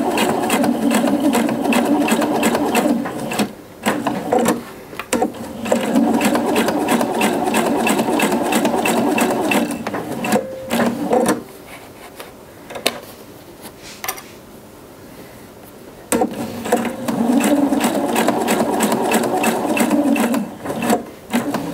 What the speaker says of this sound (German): Dann umdrehen und knappkantig auf Teil 2 abnähen.